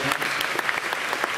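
Applause from a parliamentary session audience, a dense steady clatter of many hands clapping close by for about a second and a half, without voices.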